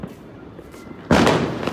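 New Year fireworks erupt in a loud, dense burst of crackling explosions that sets off abruptly midway and keeps rumbling, preceded by quieter distant pops and background murmur.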